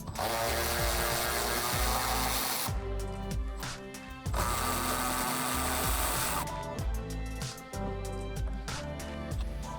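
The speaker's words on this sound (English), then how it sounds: "Grab a 15mm socket and remove the 3 nuts holding the rear strut mounts into the strut tower." A socket tool drives off the 15mm nuts holding the rear strut mounts of a car, giving loud, continuous, buzzing mechanical whirring in bursts. Rapid ratcheting clicks fill the short pauses between runs.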